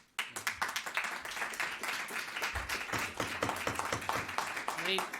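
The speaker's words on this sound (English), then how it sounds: "if you're going to keep applauding, that's going to cut into the public comment time" An audience at a town council meeting applauds, a close, dense patter of many hands clapping for several seconds with a few murmured voices underneath.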